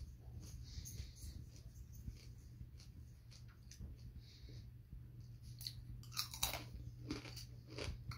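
Crunchy chewing of a dried scorpion snack, close and fairly quiet, with steady mouth noise and a few sharper bites near the end.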